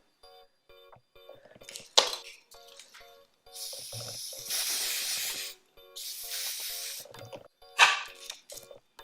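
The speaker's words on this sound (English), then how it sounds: "Gonna push the spray into the hairline." Lace spray is sprayed onto a wig hairline in several short hissing bursts, close and crisp, with one longer sustained spray in the middle and quiet pauses between.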